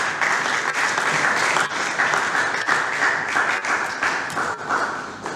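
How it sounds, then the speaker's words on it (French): Students at a school parliament plenary session give sustained, loud, even applause, with many hands clapping together throughout. "Vous pouvez une fois de plus applaudir."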